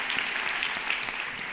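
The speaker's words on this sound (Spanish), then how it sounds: "O sea que merece un doble aplauso" Audience applause for a guest at a women's forum in Mexico, a short burst of dense, steady clapping from a crowd filling the room.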